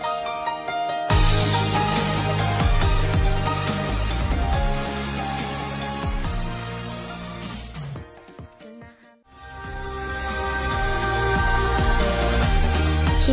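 A group performs a song on a radio broadcast. A full, loud band mix plays throughout, dropping briefly near the end before returning at full strength.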